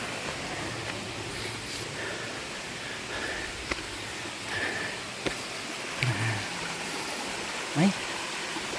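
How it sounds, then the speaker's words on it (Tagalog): A river stream flows in Wawa, Montalban, Rizal, a steady broadband rush of water with a few faint knocks and rustles on top, no voices heard. "May ilog-ilog."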